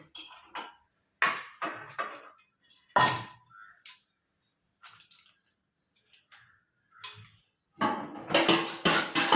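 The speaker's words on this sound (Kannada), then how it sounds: "ಈಗ ಬನ್ನಿ ಪಾತ್ರೆ ತೊಳೆದ್ಬಿಡ್ತೀನಿ." Dishes and pots are washed by hand, giving scattered clanks and clatters with pauses between them, then a rush of running water near the end.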